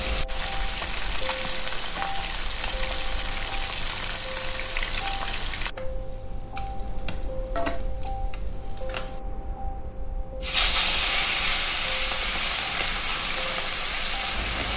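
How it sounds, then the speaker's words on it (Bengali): Small khoira fish fry in mustard oil in a pan, giving a loud, steady sizzle with popping spatter. The sizzle briefly dips partway through, then returns stronger. "তারপর এখানে কিছু কিছু করে খয়রা মাছগুলোকে দিয়ে দিলাম, যাতে ভালো করে ভাজা হয়ে যায়"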